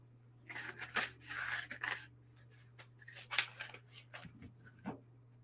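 An oracle card deck is shuffled and a card pulled close by: a run of soft rustles, flicks and crisp snaps in irregular bursts, with no talk, over a low steady hum.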